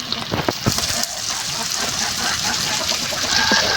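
Washed bitter gourd goes into hot oil in a pan after hilsa fish fried there, bursting into a loud, steady hissing sizzle with a few early crackles and clatters.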